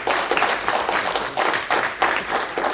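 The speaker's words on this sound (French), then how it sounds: "vous pouvez les applaudir" An audience claps with a brisk, uneven patter of many hands, moderately close and steady across a few seconds.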